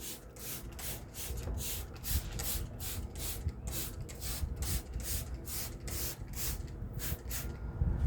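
Pump sprayer misting P21S Total Auto Wash onto a car engine bay, a close series of quick rhythmic hissing bursts repeating steadily, about two per second.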